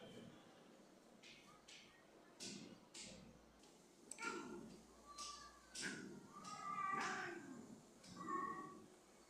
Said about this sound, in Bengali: ম্যাও ম্যাও ম্যাও রাগ দেখায়।